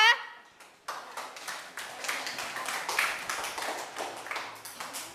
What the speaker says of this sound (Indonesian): Tepuk tangan buat Mbak Faiza